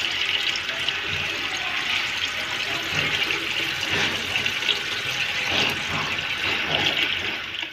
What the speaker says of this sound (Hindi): अभी अच्छे से मैं पानी से वॉश कर लूँ